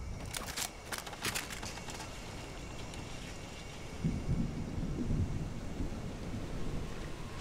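A video-game thunderstorm rolls on: sharp crackling thunder strikes early, then steady rain and deep rumbling, loud and close throughout.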